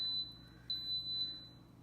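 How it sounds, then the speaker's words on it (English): Electronic beeps from a pressure cooker: a short high-pitched beep, then a longer steady one, clear over a low background hum. "And it'll beep like that to tell you that it's gonna start."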